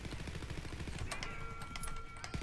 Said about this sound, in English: Now you're shooting at me.